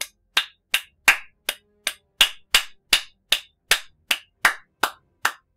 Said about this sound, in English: One person clapping never sounds quite so impressive